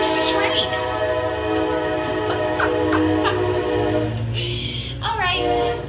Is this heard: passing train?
yes